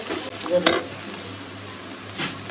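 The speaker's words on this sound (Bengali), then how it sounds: "যে পেস্টটা সুন্দর করে ভাজা ভাজা হয়ে গেছে।" Spice paste frying in a pan for a Bengali rui fish and mash dal dish, giving a steady close sizzle with a few sharp clinks of a spoon against the pan.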